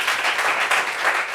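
An audience claps together in a brief, dense burst of steady applause, fairly close and even throughout, with no voices standing out.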